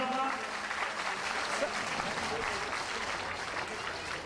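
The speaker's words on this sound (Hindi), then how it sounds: "इनका जोरदार ताली बजाकर स्वागत करें" An audience at a formal gathering claps steadily throughout to welcome a guest, a continuous wash of applause with a voice faintly audible beneath it.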